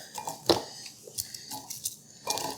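Kitchen knife slicing through a halved onion into wedges on a cutting board, a few sharp chopping taps and board knocks spaced irregularly, close and fairly quiet with no talk.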